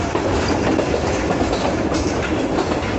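The Jaffar Express passenger train runs on rails near Jacobabad, a steady loud rumble with rhythmic wheel clatter heard from inside the moving train.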